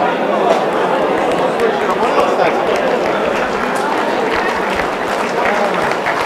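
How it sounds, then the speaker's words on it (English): Conference audience applauding after an IT talk, a steady dense wash of many hands clapping with a faint murmur of crowd chatter underneath. "You can give yourself a round of applause."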